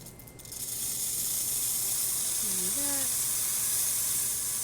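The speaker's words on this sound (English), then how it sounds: "So here's the steam." Steam wand on a Lelit Elizabeth espresso machine, freshly serviced, gives a loud, steady hiss that builds within the first second and holds to the end, with brief tonal squeals partway through and a short spoken word near the start.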